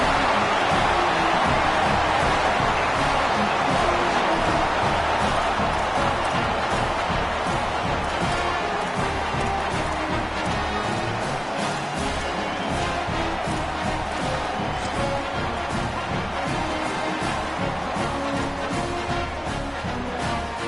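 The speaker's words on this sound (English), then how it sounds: "Touchdown, Iowa! Rolled into the end zone, and this crowd was eating it up." A stadium crowd roars steadily at an Iowa football game against Michigan after a touchdown, a dense, loud wash of cheering that holds throughout without letting up.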